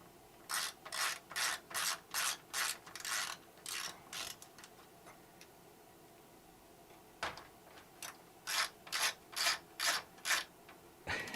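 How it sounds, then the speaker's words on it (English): Screws being backed out of a Macintosh II chassis with a ratcheting screwdriver, a close, rapid series of rasping clicks in steady rhythmic bursts, a quiet pause, then another run of even strokes. "let's take out the screws"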